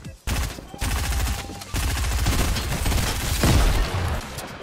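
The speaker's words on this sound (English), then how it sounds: "Someone's just shooting rockets, dude." Rockets fire in a chaotic Fortnite battle as rapid bursts of blasts and gunfire run continuously, loud and close, with a few heavier booms.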